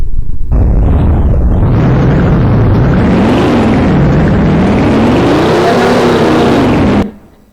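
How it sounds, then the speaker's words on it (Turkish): A turbocharged car exhaust in a Roblox driving game roars loud and continuous for about seven seconds, its pitch rising and falling, then cuts off abruptly. "Egzozdan bakın nasıl ses çıkacak."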